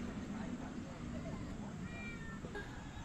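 A friendly cat on a walk on Somuido island gives a couple of faint, brief meows under steady outdoor background noise.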